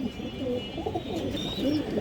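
A long-bodied pigeon for sale at a loft farm coos in soft, repeated low rolls, close and steady over about two seconds with no talk.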